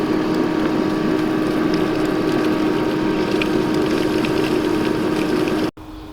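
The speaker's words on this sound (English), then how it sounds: "now that we've got everything hooked up, we can turn our pump on." An above ground pool pump hooked up to a pool vacuum runs with a loud, steady mechanical hum and whir, then cuts off abruptly near the end.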